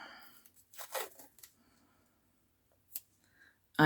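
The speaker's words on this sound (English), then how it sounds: "I need to put the cosmetic tape on." Makeup Revolution cosmetic tape is torn from the roll with a crinkly rip and then pressed on, giving short papery tears, a pause, a few soft taps and a sharp final snap, all close by with no voice.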